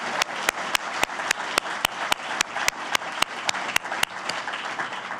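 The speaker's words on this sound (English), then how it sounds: "Can we give her a round of applause?" A crowd applauds Senator Joni Ernst for about five seconds, a dense wash of clapping with one sharp, evenly paced clap beating steadily through it.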